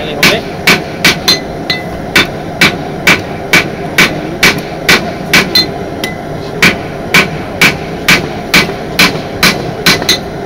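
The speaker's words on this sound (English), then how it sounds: "So I'm trying to strike with the hammer there and on the opposite side on the anvil" A hammer strikes hot steel on an anvil while a knife tang is being drawn down, sharp ringing blows coming in quick, uneven bursts of two or three, loud and close over faint background noise.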